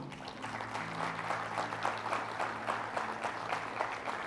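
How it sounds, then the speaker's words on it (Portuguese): A church congregation applauding during a sermon, steady dense clapping from a crowd held at a moderate level with a faint tonal hum underneath. "Você pode dar um aplauso ao Senhor?"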